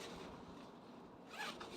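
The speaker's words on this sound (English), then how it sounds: "Zip that down. So the zip is all the way to the bottom." A zipper on a fabric winter cover for a banana plant is pulled down outdoors, a quiet, continuous rasping zip lasting under two seconds that grows slightly brighter near the end.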